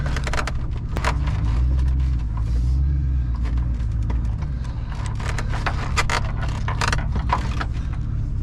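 A truck reverses slowly through a yard, its engine rumbling low and steady while loose items inside jangle and rattle in frequent bursts, close and loud.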